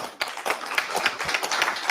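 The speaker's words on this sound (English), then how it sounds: "a big round of applause" Conference audience at an agricultural technology session in Nairobi clapping for a speaker, a brief burst of dense, irregular hand claps at moderate distance with no talk over it.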